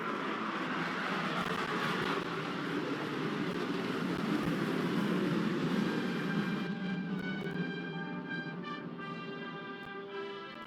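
A B-1 Lancer bomber passes overhead at an air show, a steady loud jet roar that holds then eases into a fading, whining tail as it moves away.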